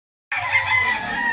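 A rooster at a chicken market in North Cebu lets out a loud, close crow that begins abruptly after a brief silence and holds steadily to the end.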